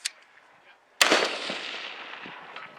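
A single loud gunshot at a two-man shooting competition tower stage, cracking sharply about a second in and followed by a long outdoor echo and reverberant tail; a faint click or snap precedes it.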